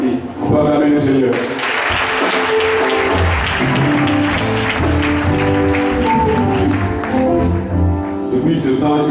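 A church congregation claps loudly and steadily in praise of the Lord, dense applause filling the room with voices mixed in throughout.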